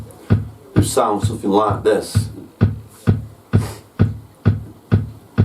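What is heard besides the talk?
Roland TR-909 drum machine preset pattern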